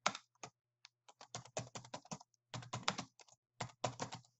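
Quick bursts of typing on a computer keyboard, close and clear, with rapid key clicks grouped into short runs separated by brief pauses.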